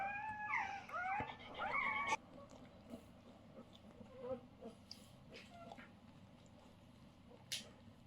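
Newborn puppies from a dog's litter cry in a cluster of thin, high squeaky whines near the start, then only faint scattered whimpers, with soft background noise.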